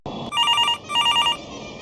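A telephone rings indoors, two bursts of bright trilling electronic bells separated by a short pause, clear and close with no talking.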